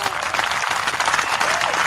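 Loud crowd applause at a live podcast show, a dense burst of many hands clapping at close range with faint voices mixed in.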